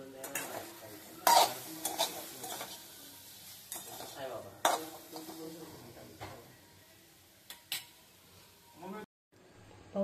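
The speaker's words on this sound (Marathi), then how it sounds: "आपला टोमॅटो फ्राय चाललेले आहेत" Tomatoes frying in a pan and being stirred, quiet sizzling under repeated scraping and knocks of a spoon against the pan, with someone talking throughout.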